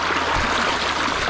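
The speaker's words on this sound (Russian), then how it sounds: "Отсюда вытекает горячая вода." Hot spring water at a natural spring in Slovakia flows and trickles out of its source in a steady, loud, close babbling rush with no speech.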